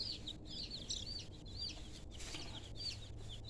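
Chickens clucking near their coop, a steady stream of high chirps and clucks from several birds over a low rumbling background, fairly close and moderate in level.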